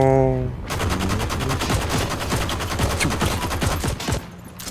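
Machine gun fire in the shooter game Heroes and Generals: a loud, rapid, sustained burst of close automatic shots, preceded by a brief voice.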